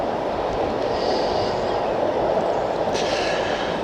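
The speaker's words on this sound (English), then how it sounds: "As a train goes by" Train passing near a cricket ground during an Essex versus Nottinghamshire county match, heading to or from Liverpool Street, giving a loud, steady rumble with a faint high squeal partway through and no voices.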